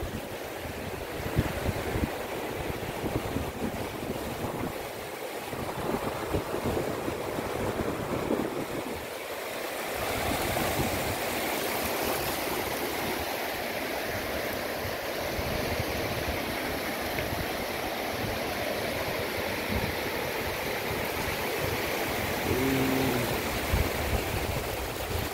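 Surf washes steadily onto Inani sea beach at Cox's Bazar, a continuous broadband roar of breaking waves mixed with wind buffeting the microphone, loud and unbroken throughout.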